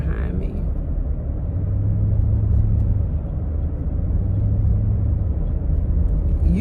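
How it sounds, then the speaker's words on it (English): A truck rumbles nearby with a loud, steady low engine drone that holds throughout and hums more heavily in two long stretches. "Look at this truck behind me."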